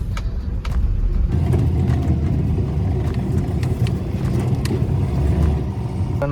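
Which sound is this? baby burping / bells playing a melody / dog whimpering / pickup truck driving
pickup truck driving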